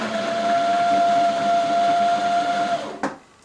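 A sewing machine runs a steady, continuous stitch along a single skirt seam in fabric, a loud even whirring hum that stops abruptly near the end, followed by a short clunk and quiet.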